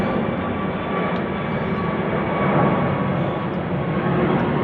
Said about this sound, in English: the plane's going the wrong way